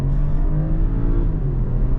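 BMW 745e plug-in hybrid 7-Series sedan accelerates in sport mode on a New York City road, a loud, steady low engine rumble and drone heard from inside the cabin, with no talking.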